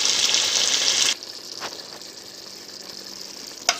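Pumpkin simmering in sauce in a pan gives a bright, steady sizzle for about a second, then drops to a quiet, low bubbling with a couple of faint clinks.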